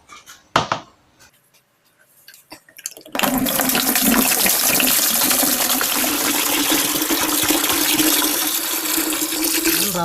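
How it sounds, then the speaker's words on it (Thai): A few light clanks and clatters, then water gushes loudly and steadily into a bucket, a constant rushing pour until the end. "ก่อนอื่นเราก็จะเทน้ำใส่ถังก่อนนะครับ"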